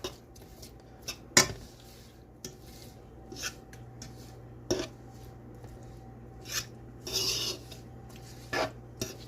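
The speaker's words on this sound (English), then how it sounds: "Then you want to stir it to your liking." A utensil stirs sriracha sauce in a pot, giving quiet scrapes and light metallic clinks scattered over a low steady hum, close by but soft and without any talking.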